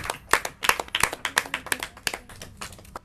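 Around a dozen sharp, distinct hand claps ring out in an uneven rhythm from a small group at a Portuguese-language competition final, close and clear with no talk.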